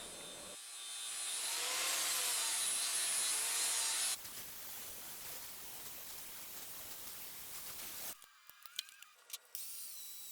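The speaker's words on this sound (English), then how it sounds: "the final step is to sand in the large radiuses that I need at the front of the anvil" A steel anvil being sanded to put large radiuses on its front edge: a loud, steady abrasive rasp for several seconds, then a rougher, quieter grinding that ends in short scraping bursts.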